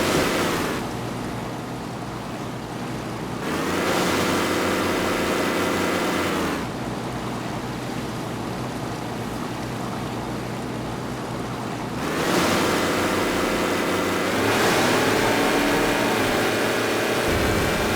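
A boat powers over ocean waves in Crysis Remastered, a steady engine drone under rushing, splashing water and wind that surges in broad swells every few seconds.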